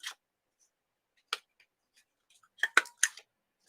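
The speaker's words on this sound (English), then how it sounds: "I want to use my corner rounder to cut the top edge of the cakes" A corner rounder punch trimming the edge of a paper card, heard as four or five quiet, sharp snipping clicks spaced apart against near silence.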